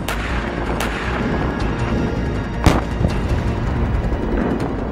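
Artillery shelling in the Russia-Ukraine war at Zaporizhzhia rumbles loud and continuous, punctuated by several sharp blasts, one standing out in the middle, over dense crackling background noise.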